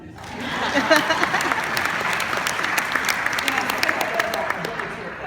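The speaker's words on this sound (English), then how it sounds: "Y'all can clap too." Conference audience applauding in a hall, sustained loud clapping from many people lasting throughout, with a voice speaking over it.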